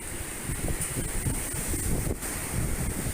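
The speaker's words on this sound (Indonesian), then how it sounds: "Kali ini, hujan badai menerpa wilayah Kampung Cikampak, Desa Bojong Rangkas." A wind and rain storm in Ciampea, Bogor, with gusts roaring across the microphone in a steady, loud rush and a broad hiss of rain over a low rumble.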